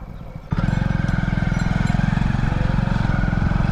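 Motorcycle engine starting up close by, then idling loud and steady with a rapid even throb after a brief quieter stretch at the start.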